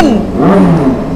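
A motorbike engine revs hard on a busy Jakarta street at night, its pitch climbing and falling in a loud, close, continuous roar with other traffic blending in underneath.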